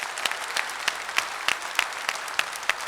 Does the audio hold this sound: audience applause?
yes